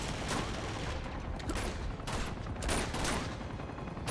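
Rapid gunfire from the Uncharted 2: Among Thieves video game, a dense, continuous fusillade of overlapping shots and bursts that stays loud and steady throughout.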